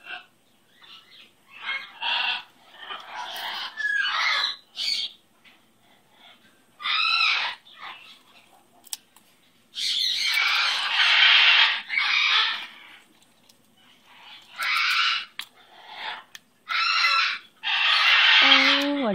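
A pet owl indoors gives a series of harsh, raspy squawks and screeches in short bursts, with a few clearer calls near the end, heard close up over a quiet room.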